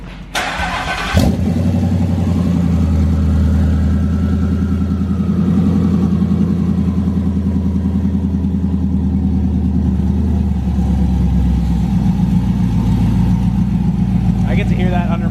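A twin-turbo Mustang engine starts with a sharp burst, then settles into a loud, rumbling idle that holds steady close by for about ten seconds before tapering off; people talk faintly underneath.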